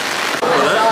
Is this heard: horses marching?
no